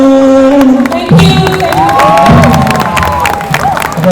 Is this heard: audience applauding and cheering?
yes